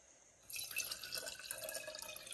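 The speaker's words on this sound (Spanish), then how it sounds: "Agua del grifo en un frasco previamente lavado para nuestro uso." Tap water runs into a washed jar, starting after a brief quiet moment and then continuing as a steady, bright splashing pour, close and fairly faint, with no voices.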